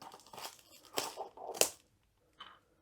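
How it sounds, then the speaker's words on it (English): Cellophane wrapping being cut and torn off a sealed Diamond Art Club box, a run of close crinkling and ripping bursts with a sharp snap, then a short final crackle after a pause. "So this box is sealed. So we need to cut the cellophane."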